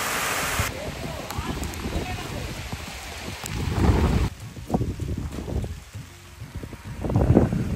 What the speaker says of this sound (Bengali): প্রচুর পরিমাণ বৃষ্টি হচ্ছে সকালবেলায়